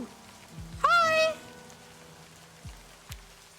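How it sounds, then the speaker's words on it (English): Steady soft rain falls outside in the video game Livber: Smoke and Mirrors, a faint constant hiss beneath a brief creature-like cry and a couple of dull thumps. "You shouldn't stay out in the rain any longer."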